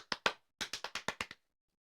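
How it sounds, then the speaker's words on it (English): About eight hand claps at close range in a quiet room during a podcast, two quick ones, a short pause, then a fast run of six before silence. "Happy clap."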